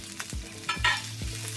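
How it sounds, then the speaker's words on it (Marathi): Two onions browning in half a spoon of hot oil on a griddle, with a steady close sizzle broken by three or four distinct scraping stirs of a spatula; no voices. "आता यामध्ये हे 2 कांदे ब्राऊन कलरवर चांगले असे भाजून घ्यायचे"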